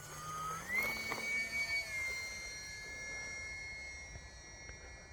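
A UMX Turbo Timber RC airplane takes off in foggy night air, its electric motor whining up in pitch and holding a steady, fairly faint drone as it climbs away.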